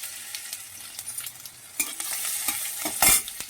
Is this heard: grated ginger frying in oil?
yes